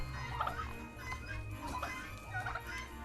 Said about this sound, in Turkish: Ve gelelim hindilerimize